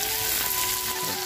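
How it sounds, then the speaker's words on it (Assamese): Tomatoes go into a pan of frying pork, raising a steady broadband sizzle that holds evenly throughout, close and fairly loud, with no talk. "এতিয়া এই বিলাহীখিনি দি দিম ইয়াত"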